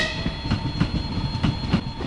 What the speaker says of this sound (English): You can see on your screens the new train, the new type of the train. It is called Ivolga